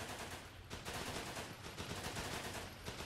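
Gunners open fire in the World War II Pacific shooter Running With Rifles, producing sustained, dense machine-gun bursts with sharp rapid reports that barely pause, loud and close throughout.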